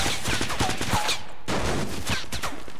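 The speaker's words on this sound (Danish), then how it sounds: "Der er nogen, der skyder her" Gunfire in the video game Fortnite crackles in quick repeated bursts over a short stretch, loud and busy, with a brief gap midway.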